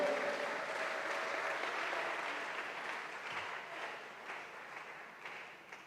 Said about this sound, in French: Zapigia Bwana mikono.